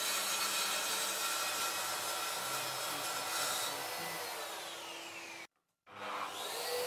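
A Mafell MT55 plunge saw whines steadily through a plunge cut, its motor pitch sliding as it winds down, falling silent for a moment, then spinning up again.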